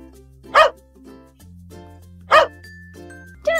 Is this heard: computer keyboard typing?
no